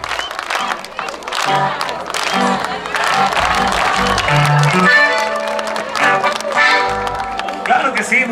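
Crowd applause and cheering for Lupita at a quinceañera celebration, loud and sustained throughout, with music and voices mixed in.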